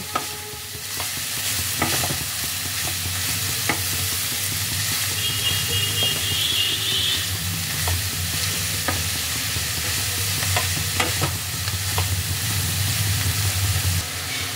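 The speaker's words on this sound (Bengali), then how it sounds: "গাজরটাকে এবার ঘিয়ের মধ্যে ভালোভাবে ভাজতে হবে।" Grated carrot frying in ghee sizzles and hisses steadily, with occasional scraping strokes of a stirring spoon; close, continuous, no voices.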